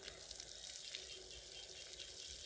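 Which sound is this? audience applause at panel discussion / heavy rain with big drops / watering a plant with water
watering a plant with water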